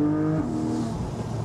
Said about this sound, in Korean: 자세조 장치를 다 끈 상태에서 완전히 풀스로틀을 하면서 코너를 탈출해봐도